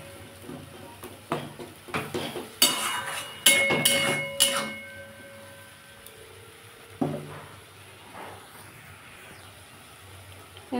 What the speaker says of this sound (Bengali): এটা বন্ধুরা ভালো করে কষতে হবে, নাহলে কাঁচা পেঁয়াজ রসুনের গন্ধ ছাড়বে